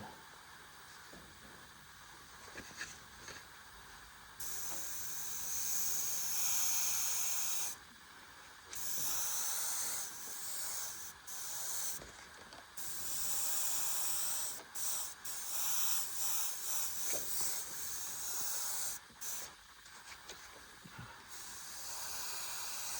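A NEOECO airbrush spraying air gives a steady close hiss, broken by short pauses and a few quick on-off bursts as the trigger is worked.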